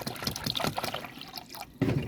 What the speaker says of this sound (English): I'm gonna go ahead and add some water